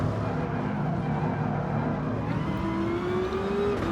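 A racing car engine in a video game drones loudly and steadily while overtaking a Bugatti, pitch climbing smoothly as it revs up near the end, with a voice faintly underneath.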